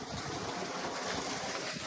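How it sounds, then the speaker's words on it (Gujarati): Water gushes from the outlet of a farm water pump motor, producing a steady, close, broadband rushing hiss with no talk. "આપણે મોટર જુઓ પાણી નીકળી ગયું છે"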